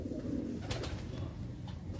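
A Lahore fancier's pigeon coos softly: a short, low, throaty call over a quiet background, with no talk.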